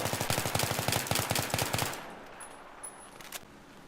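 Battlefield 3 automatic rifle fires a rapid burst of about a dozen evenly spaced shots in game, loud and close, then cuts off into a fading tail with faint ambient noise.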